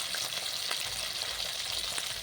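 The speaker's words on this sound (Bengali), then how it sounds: "মাছটা দেখি এপিট এপিট করে ভেজে নেব আমি ভালো করে" River fish frying in hot oil for a curry, turned side to side, makes a constant even hiss with faint crackles and no talking.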